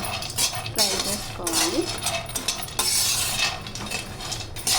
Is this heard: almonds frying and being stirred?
yes